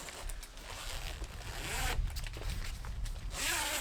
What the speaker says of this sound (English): The heavy duty zips here.